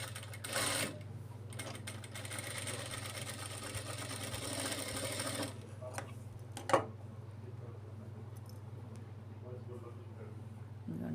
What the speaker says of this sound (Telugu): అందుకని సేఫ్టీగా ఇంకో కుట్టు వేసుకోవాలి. నెమ్మదిగా వేసుకోండి.